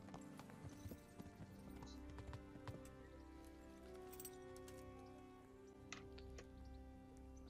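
Steady clip-clopping of horse hooves at a walking pace in the video game Kingdom Come: Deliverance, fairly quiet, with faint jingling and background ambience throughout.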